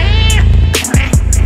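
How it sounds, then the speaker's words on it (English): Cat meows from inside a video game, a few short bright calls standing out over a steady game soundtrack. "A cat, that's cute."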